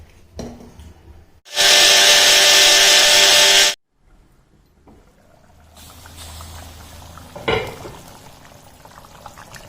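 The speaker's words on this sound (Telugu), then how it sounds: "ఇవి మిక్సీకి వేసుకుంటాను ఇప్పుడు." Roasted coriander seeds whir in a kitchen mixer grinder in a loud, steady burst of about two seconds, then stop abruptly, followed by quieter handling noises and a brief knock.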